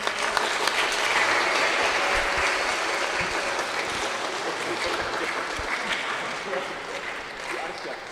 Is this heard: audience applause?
yes